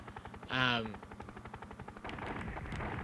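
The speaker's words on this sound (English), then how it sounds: "let's use some rockets on this to get rid of it quickly" Rockets fire from a helicopter in the SNES game Urban Strike, a single booming launch blast followed by a stream of rapid, rattling gunfire-like shots continuing to the end.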